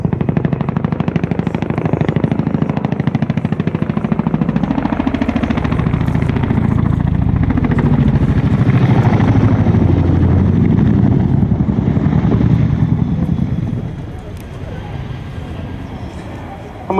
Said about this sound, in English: we're delighted to see the Chinook back at Duxford